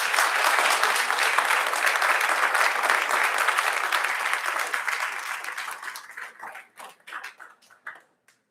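Audience at a township council meeting applauding: a full, sustained burst of many hands that gradually thins out into a few scattered, separate claps before ending.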